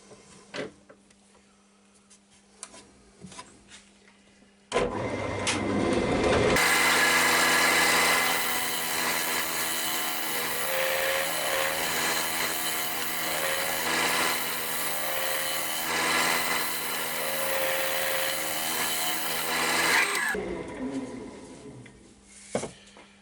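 A sycamore platter spinning on a wood lathe while a scraper cuts it, a loud steady whirring hum with a rough cutting hiss that runs for about fifteen seconds before easing off.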